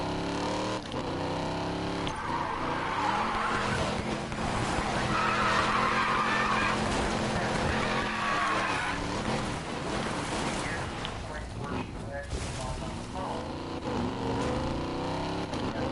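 Cars drifting and skidding in a Need for Speed free-roam session, a steady loud mix of engine roar and screeching tire slides that swell and fade over the whole stretch, with no talk.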